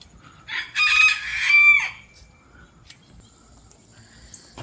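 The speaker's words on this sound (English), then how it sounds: "I'm harvesting over here near the rooster. He's going to holler." A rooster crows once nearby, a loud drawn-out call lasting about a second, followed by quiet outdoor background.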